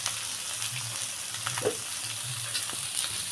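Fish pieces frying in a pan, hotel-style fish fry, being turned one by one; a steady hiss of hot oil with faint scraping of a spatula, close and unbroken, without voices.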